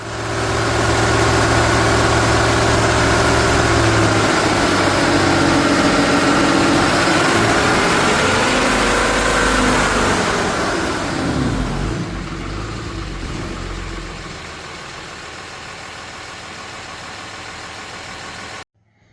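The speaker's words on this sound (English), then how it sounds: "you just saw me make a dyno pull with the 68 RFE engine calibrations" A 2013 Ram 2500 6.7L Cummins diesel engine roars under load on a dyno pull, rising steadily in pitch as it revs up, then drops back and settles to a lower drone.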